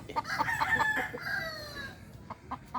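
Gamefowl in a breeding flock, with a rooster crowing nearby in a clear drawn-out call, followed by a few sharp clucks, no talking.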